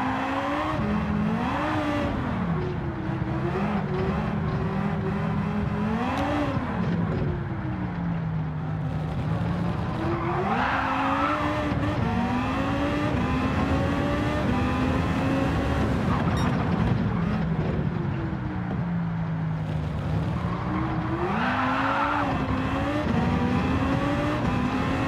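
A race car in Gran Turismo 7 drives steadily, its engine droning and rising and falling in pitch through gear changes and revs, loud and continuous throughout with no talking.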